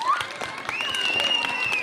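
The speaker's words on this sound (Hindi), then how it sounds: "एक बार जोरदार ताली ताली लगाओ" Audience at a Kurukh folk song class applauding loudly on request, scattered clapping running under singing voices and a sustained whistle-like tone.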